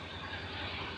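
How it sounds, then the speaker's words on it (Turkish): Engine of a 2024 Honda NC750 DCT motorcycle running at a steady idle, a low, even throbbing rumble heard close with no break. "Şu Makinenin sesi de iyiymiş Ahmet."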